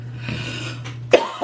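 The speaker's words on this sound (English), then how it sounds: "I hope I can, like, get rid of all the coughing." One abrupt cough bursts out near the end after a stretch of low steady hum, close to the microphone, with a second catch of breath following.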